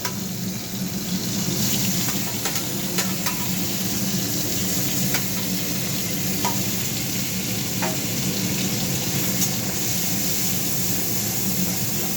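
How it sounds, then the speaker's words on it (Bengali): Ginger and garlic paste sizzle in hot oil while making palak paneer, a constant close crackle broken by occasional sharp scrapes and clicks of stirring. "এবার ওই সেম গরম তেলে আদার পেস্টটা আর রসুনের পেস্টটা দিয়ে দেবে"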